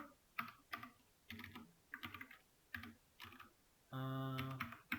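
Keys clatter on a computer keyboard as code is typed, in several quick bursts of clicks with short pauses, close and moderately loud, ending in one denser, steadier stretch of key noise.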